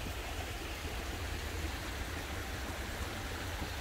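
Continuous soft trickle of water running out of a hillside near Lake Neuchâtel, a gentle steady gurgle without breaks, fairly faint and with no voices.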